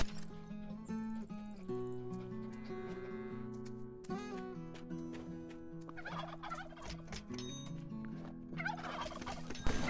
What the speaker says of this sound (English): I forgot about my little turkeys over here.